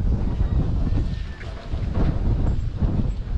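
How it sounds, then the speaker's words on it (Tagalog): Strong wind on a farm buffets the microphone in loud, rumbling gusts that rise and fall continuously, with no voices heard. "So, ngayon, napakalakas ng hangin."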